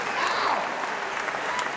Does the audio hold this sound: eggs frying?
no